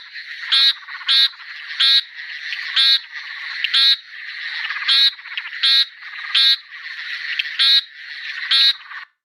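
A frog gives a loud, close, beeping call, sharp pulsed notes repeating roughly every half second to second over a continuous background chorus of other calling frogs.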